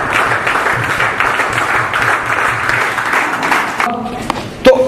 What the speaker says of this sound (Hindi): एक जोरदार तालियां होनी चाहिए आप सभी की तरफ से